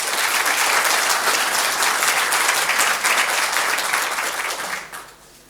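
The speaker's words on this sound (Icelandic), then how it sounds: "við skulum gefa henni gott klapp" A crowd at a university graduation ceremony gives loud, sustained applause that holds steady and then tapers off quickly near the end.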